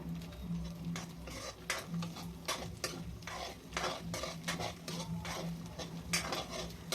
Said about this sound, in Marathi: अंडा छान असा शिजतपर्यंत याला छान परततच राहायचं आहे